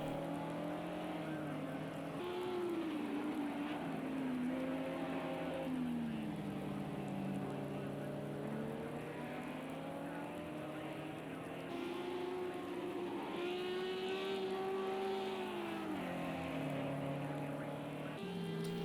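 Race cars, including an Audi, drive on a rain-soaked track in a racing video game. A close engine whine rises and falls continuously over a steady hiss of rain and spray.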